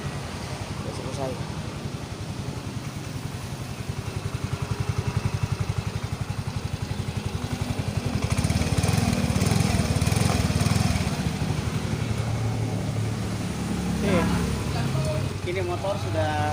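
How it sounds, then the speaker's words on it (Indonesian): A Yamaha automatic scooter engine with a lost-compression fault, now repaired and kick-started, runs at a steady, loud idle for the whole stretch, its rhythmic chugging briefly rising in revs, with faint voices underneath. "Ini motor sudah hidup ya"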